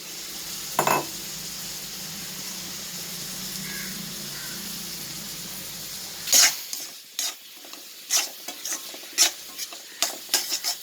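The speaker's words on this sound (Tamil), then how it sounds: "இந்த இஞ்சி போட்டு பச்சை வடை போகணும். வெங்காயம் நல்லா வதங்கணும்." Ginger, garlic and onion sizzle in coconut oil in a pan for a prawn roast, a soft steady frying hiss, then sharp scraping clacks of a spoon stirring against the pan in irregular bursts.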